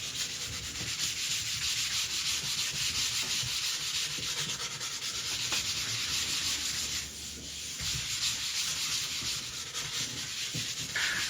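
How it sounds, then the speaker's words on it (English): Continuous close-up sanding of a solo cutaway kit guitar body, up to 220 grit, a steady dry rasping scrape with a brief dip midway, with no voices. "There's a lot of sanding involved"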